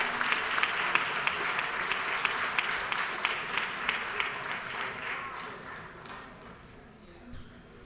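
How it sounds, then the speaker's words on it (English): Sustained applause fills the House chamber, many hands clapping densely at moderate distance, gradually thinning and fading toward the end. "give him a round of applause"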